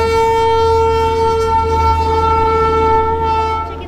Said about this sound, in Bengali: ট্রেনটা আসছে দেখো